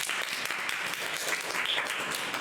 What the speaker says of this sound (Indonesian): Oke, kita kasih tepuk tangan dulu gak sih?